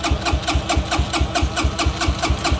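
A motorbike engine turning over on its electric self-starter powered by a lithium battery, a fast, steady, even cranking rhythm held continuously for the whole stretch, close and loud with no voices.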